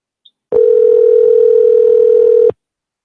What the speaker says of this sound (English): Could you guys hear me dialing?